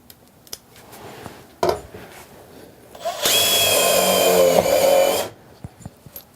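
A Makita impact driver fitted with an XPS impact bit drives a screw into a wall stud: a loud, dense two-second burst of rapid hammering, preceded by a few light handling clicks.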